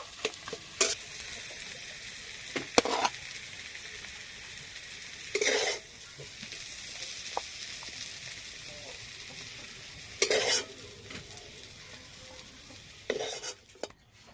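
Spiced potato filling for patties frying in a pan, a soft constant sizzle punctuated every few seconds by sharp spatula scrapes and stirs.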